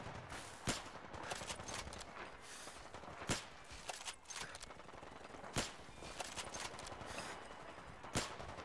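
Gunfire in the video game Fallout 4: a handful of sharp, loud shots at uneven gaps, with no voices.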